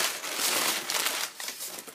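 Packing paper crinkles and rustles up close in a book box from Book Outlet, with continuous crisp crackling and no voices.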